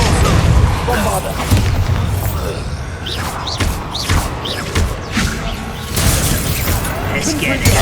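A Bombarda spell explosion in the video game Hogwarts Legacy: loud booming blasts and crashing debris with thuds, heavy rumble throughout, and voices talking over the action.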